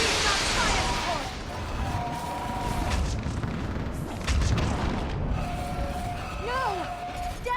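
Artillery fire support blasts in the video game Mass Effect 3, booming explosions rumbling continuously through a loud battle mix, with voices talking and shouting over them.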